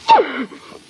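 A single close, sharp sneeze bursts out from inside a closet, then trails off into a brief breathy tail and quiet.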